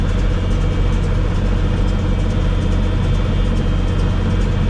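A heavy diesel tractor engine idles steadily at low speed in low range, a continuous rumbling drone with a faint rhythmic chug throughout.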